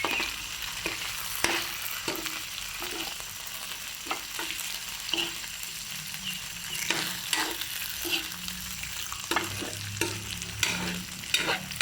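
Catfish cooking with sautéed ingredients for adobo sa gata, a steady low sizzle and bubble in the pan broken by repeated scraping stirs, no voices.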